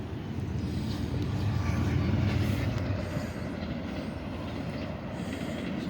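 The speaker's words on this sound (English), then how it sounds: "Train." A train passes at moderate distance, a steady broad rumble of wheels and carriages rising slightly and then holding for several seconds without speech.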